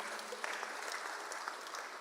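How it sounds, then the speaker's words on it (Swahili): A congregation at a Kikuyu church service claps for the children, steady dense applause filling the room for a couple of seconds at moderate distance. "Wapigie watoto hao wote makofi."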